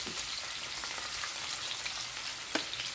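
Fish fries in hot oil in a pan, a steady dense sizzle and crackle close by with one sharper pop near the end, no voices.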